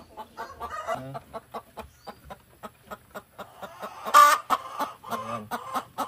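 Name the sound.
chickens clucking, breeder hens on a farm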